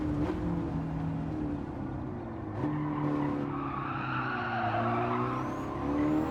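A racing-game car brakes hard into a hairpin, its engine note dropping as the tyres squeal and skid in a sustained screech over the steady engine drone, with no talk.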